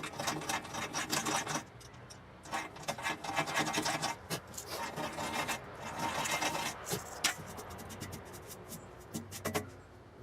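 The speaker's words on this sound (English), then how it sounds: "Deburr the holes." A hand deburring tool rasps and scrapes around freshly drilled bolt holes for a bolt-on grab hook, with steady filing strokes in short bursts and brief pauses, close and fairly loud with no talking.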